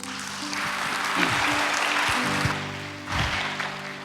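Applause from a church congregation during a Korean Sunday worship service, a dense wash of clapping that dips and swells again toward the end, with a faint low tonal hum underneath.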